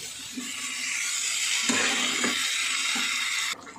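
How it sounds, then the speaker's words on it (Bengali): Tomatoes, green chili and nigella seeds sizzle steadily in a hot pan, with a few soft scrapes of stirring cutting through the constant frying hiss before it drops off at the end. "এবারে টমেটো দিয়ে, কাঁচা লঙ্কা, কালো জিরে দিয়ে নাড়িয়ে চাড়িয়ে জল দিয়ে দেবো।"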